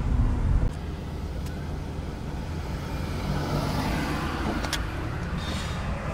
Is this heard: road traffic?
yes